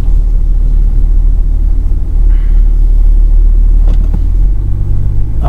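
A 2001 BMW 730d diesel idles cold with a heavy, continuous low rumble, close and loud, with brief clatter near the end as the engine note shifts slightly.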